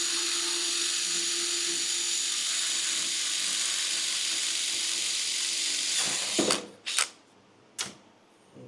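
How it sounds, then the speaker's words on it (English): A power drill bores a hole in a metal sandrail frame with a loud, steady high-pitched whine lasting several seconds, then stops, followed by a couple of short bursts of drilling. "you just drill your hole."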